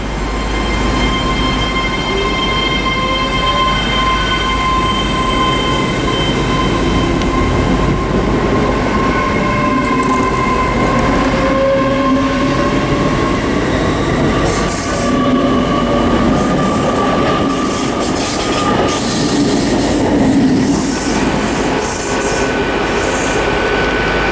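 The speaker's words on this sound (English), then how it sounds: "Right now departing is going to be the 1309 Great Western Railway service to London Paddington from Swansea" A Great Western Railway service from Swansea to London Paddington departs Bristol Parkway station with a loud, continuous rumble. Squealing wheels and clickety-clack rail joints build as it pulls away.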